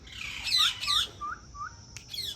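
A pet parrot gives several close, shrill squawks and chirps in short bursts, with brief gaps between calls.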